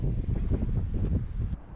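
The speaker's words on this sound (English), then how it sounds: "Yes, the wind is actually too much." Strong wind buffets the microphone at an open park spot in Linköping, Sweden, a steady loud roaring rush that cuts off abruptly near the end.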